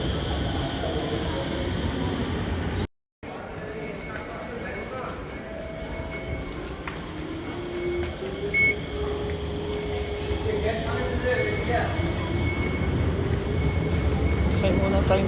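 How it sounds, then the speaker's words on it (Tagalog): A train pulls into a station with a continuous rumbling, rising wheel and rail noise and faint squeals, while people talk nearby over the approach. "Tumunog na yung chime guys. Ibig sabihin parating na yung train."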